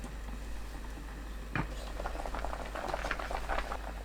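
Potatoes boil hard in kelp broth inside a covered pot over high heat, giving a steady, dense bubbling and rolling simmer that stays close and even, with a few sharper pops standing out.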